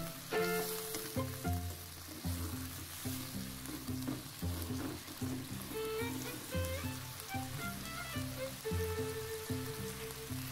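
Mixed vegetables being stir-fried in a wok for a vegetarian dish, a steady loud sizzle with frying crackle and stirring scrapes throughout, under a continuous tonal music bed, no talking.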